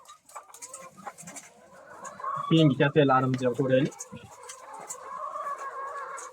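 Laying hens of the Loman breed clucking in a coop, with one loud, harmonic squawking burst mid-clip and softer clucks around it, while someone talks nearby.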